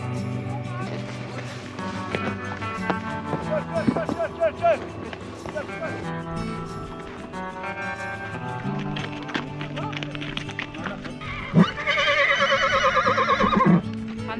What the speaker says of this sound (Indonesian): Menaiki kuda.